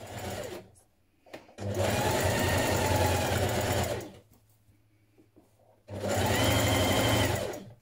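A sewing machine runs two long bursts while hemming a sweater fabric with a single fold using a stretch stitch, loud and close, with a quiet pause and a brief click between runs.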